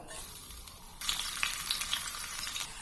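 Crushed garlic cloves with skins on frying in hot oil in a pan for a Kerala kara boondi mixture, a soft steady sizzle that turns brighter and crackly as the garlic goes in, alone and fairly quiet.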